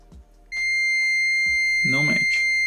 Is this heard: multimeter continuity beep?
yes